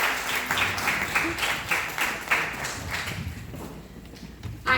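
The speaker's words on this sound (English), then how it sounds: "give yourselves a round of applause" Audience applause at the Queen Summit, a dense wash of many hands clapping at once, loud and steady before thinning out toward the end, with no talking over it.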